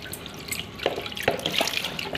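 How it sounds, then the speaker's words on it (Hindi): Water splashes and trickles while rinsing dirt out of a Samsung washing machine, an irregular run of drips and pours at close range, alone with no talk. "पहले हमने इसको पानी से साफ़ कर रहे हैं, पानी से साफ़ हो जाएगा"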